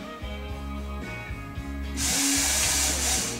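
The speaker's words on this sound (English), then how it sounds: "Okay, drill another hole." A power drill whirs in short bursts, then a steady high hiss as it bores a hole in the aileron of a 50cc model airplane, close and fairly loud.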